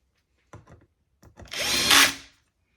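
Small handling clicks and taps come first, then a power driver whirs for about a second as a screw goes into a Rane One DJ controller, loud and close, rising then stopping.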